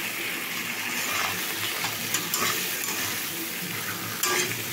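Fried hilsa fish heads are stirred in a pan with turmeric, giving a steady soft scraping and sizzle with a few brief clinks. No voices.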